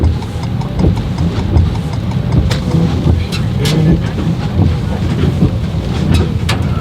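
A vehicle in tow/haul mode labors up a steep hill, its engine a steady, loud drone with scattered clicks and rattles layered on top throughout.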